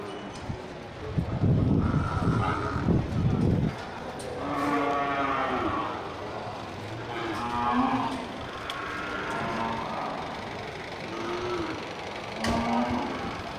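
Cattle mooing at the Gelompang Payung livestock market, several long lowing calls one after another, fairly near, over a background of market bustle with some hoof clatter early on.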